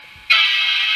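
Model locomotive horn from an Atlas HO scale AEM-7 electric with an ESU LokSound decoder, a sustained bright electronic tone that starts abruptly and holds steady and clear at close range.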